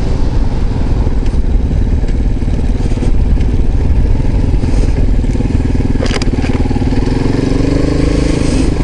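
A Honda moped engine runs steadily while it is ridden, giving a loud, continuous drone with faint rattles throughout.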